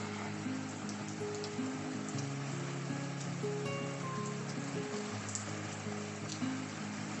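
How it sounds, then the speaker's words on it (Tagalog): Steady rain falls across a wide outdoor area, a dense, even hiss that holds for the whole stretch with soft patter and no clear voices over it. "Raining na talaga ba yun?"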